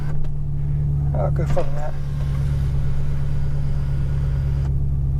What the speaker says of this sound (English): Good old V8.